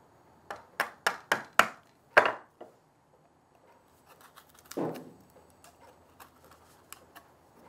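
Chisel chopping out dovetail waste in wood with hand tools: a quick series of five sharp mallet-on-chisel taps, then a heavier blow, a scraping pare, and scattered lighter knocks, close and clear.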